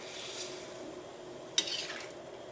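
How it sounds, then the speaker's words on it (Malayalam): Soft scraping of a spoon stirring mushroom potato curry in a pan over a faint sizzle, with one sharp metallic clink partway through. "ഇതെല്ലാം കൂടിയിട്ട് നന്നായിട്ടൊന്ന് മിക്സ് ചെയ്യാം"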